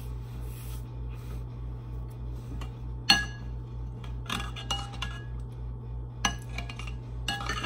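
Ginseng grains stirred into shea butter and olive oil in a small mortar, giving quiet, steady scraping and rubbing with a few sharp clinks of the utensil against the bowl, close and alone.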